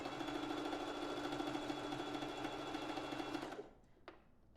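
A sewing machine stitches a small zigzag on lingerie fabric, a steady close mechanical whir that runs for a few seconds and then stops, followed by a faint click.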